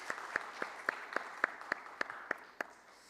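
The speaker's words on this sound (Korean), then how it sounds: "우리 6개월 동안 잘 준비할 수 있도록 우리의 큰 박수로 우리 격려하도록 하겠습니다." A church congregation claps during a Sunday service, heard as faint, distant claps in an even, steady rhythm of about three or four per second that fade out at the end.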